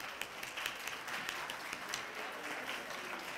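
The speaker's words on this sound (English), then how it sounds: "Let's give them a round of applause." Steady applause from an audience at a school citizen-of-the-month event, dense continuous clapping at moderate level that holds evenly throughout without voices.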